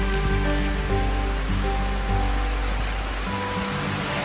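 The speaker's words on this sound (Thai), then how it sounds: "ฝนมันเริ่มตกแรงขึ้น" Heavy rain pours steadily in a forest, a loud, continuous dense hiss of water striking foliage and ground that fills the whole stretch without pause.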